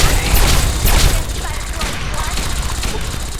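Gunfire in the Fallout 3 video game during a firefight, a loud burst of overlapping shots and booms early on, then continuing scattered shots under an excited voice.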